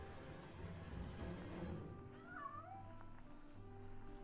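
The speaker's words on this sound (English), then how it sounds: "It's a kitty cat." A cat meows once, drawn out and plaintive, in a horror thriller PC game. It rises over a steady low ambient drone and rumble, with no talk over it.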